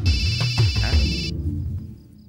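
A mobile phone ringtone plays as a bright, steady electronic tone over low voices and bumps, then cuts off abruptly, leaving faint room sound.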